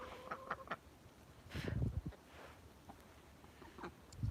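A duck quacks at a farm barn, giving a few faint, scattered quacks across a quiet background.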